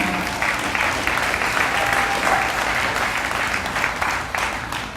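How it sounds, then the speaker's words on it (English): An audience applauds an introduced speaker at a formal event, a full, steady roll of many hands clapping close by that eases off near the end. "We have to give him a round of applause just because of his name."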